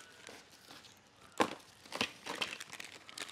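Plastic packaging crinkles and rustles in bursts as a shipment of mixed eyeglasses from China is opened, with a few sharper crackles over a quiet background.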